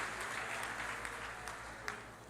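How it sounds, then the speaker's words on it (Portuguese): A church congregation claps for Jesus during a sermon service, a soft, continuous wash of distant applause under a low steady hum. "dando a Jesus uma linda salva de palmas"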